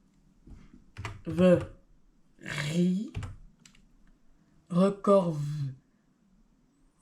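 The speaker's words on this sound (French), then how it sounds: "Donc, on va taper Chrome Book Recovery." Computer keyboard typing comes in short bursts of clicks between stretches of French speech, with the voice clearly in front and the key taps softer underneath.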